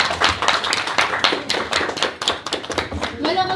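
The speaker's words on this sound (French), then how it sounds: "On peut vous applaudir" Hands clap unevenly from a small audience right after a French TV-style interview, the claps blending with ongoing talk throughout.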